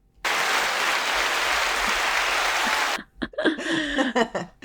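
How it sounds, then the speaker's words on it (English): An audience at a journalism roundtable with Florida editors applauds, a loud, even burst of many hands lasting about three seconds that stops abruptly, followed by someone talking. "I love the applause, and I will accept it on behalf of the team"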